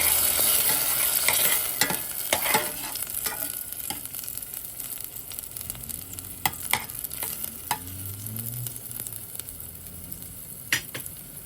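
Caribbean-style beef stew cooking in a pot, with a steady sizzle under repeated scrapes and clinks of a spoon stirring against the metal, the strokes coming in irregular bursts close by.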